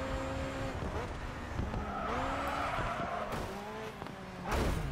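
Opponent's race car engine in Grid 2 roaring close behind during a championship race at Oakley, a continuous loud engine drone with rising and falling pitch as gears shift, plus brief tire squeal.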